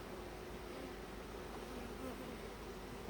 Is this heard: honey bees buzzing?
yes